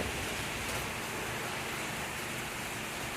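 Strong stormy wind rushes continuously through trees and garden plants, including a hibiscus, in monsoon weather, heard as a steady broadband roar at low level with no voices.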